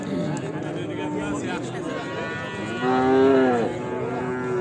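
Cattle at the Uchkoʻprik livestock market where fattened bulls are sold, with one loud nearby moo rising in the middle over steady crowd chatter and background talk.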